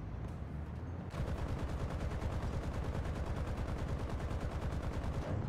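Sustained rapid gunfire in War Thunder, a dense unbroken machine-gun burst that starts abruptly after a brief quieter lead-in and stays loud and close throughout.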